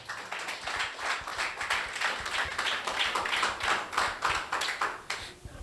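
A church congregation claps for Jesus during a prayer service sermon, a steady, dense run of hand claps filling the room without a break.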